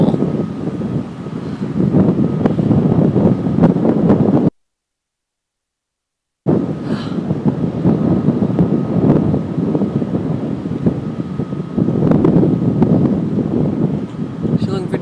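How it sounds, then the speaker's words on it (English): Strong wind buffets the microphone in long, roaring gusts, loud and continuous, broken by a brief dropout before the blustery rush resumes. "this wind is just unbelievable"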